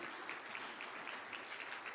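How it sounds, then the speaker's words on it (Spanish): Audience applause at a Spanish-language church sermon, a steady dense wash of clapping throughout, moderately distant and fairly quiet, with no speech over it. "Denle un fuerte aplauso a Cristo"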